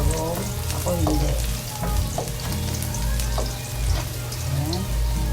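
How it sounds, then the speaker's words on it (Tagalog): Garlic sizzles and crackles in hot oil in a pan, in a continuous close frying hiss with occasional stirring scrapes, cooked as the start of a coconut-milk vegetable and crab dish. "Hintay lang natin mag-golden brown yung ating garlic."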